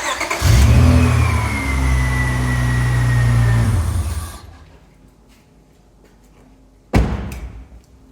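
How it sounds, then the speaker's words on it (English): A car engine cranks and catches after a jump start, revving loudly for a few seconds before settling and cutting off, followed by a sharp thump near the end. "let's see if the alternator pushed enough current to this battery to get it to start again."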